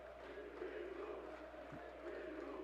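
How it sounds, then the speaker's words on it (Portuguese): Guarani football supporters in a stadium crowd chant the player's name Bilu, a steady, dense roar of many voices that carries on unbroken at a distance. "A torcida do Guarani tá gritando Bilu"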